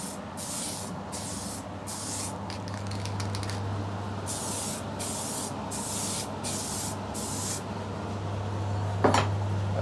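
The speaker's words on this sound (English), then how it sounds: "This is coat number three now, fresh can of sealer, still doing mist coats." A fresh can of sealer spraying mist coats onto a guitar body during lacquer finishing, with repeated short hissing bursts separated by brief pauses over a low steady background hum, close and without talk.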